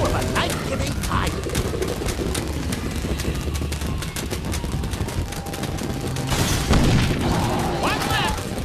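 Fireworks launched in the Sam and Max VR video game, a dense run of rapid cracking bursts and booms rolling on without pause, loud and close, with a few brief game noises mixed in and no voices.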